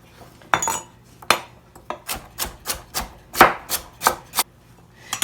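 A knife chops celery, onions and carrots on a board in a rhythmic series of about a dozen sharp, close taps, steady with small pauses, with no talk.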